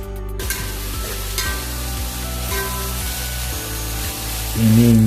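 Green chilies sizzle in hot oil in a pan for a simple Alappuzha-style chicken curry, a steady close crackle with a faint stirring scrape and a louder burst of frying at the end.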